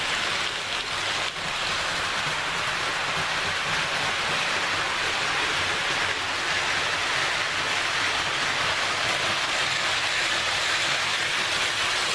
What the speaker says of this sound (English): And now the train is prototypically correct,